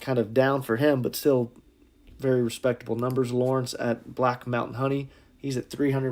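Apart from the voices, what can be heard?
No everyday noises stand out.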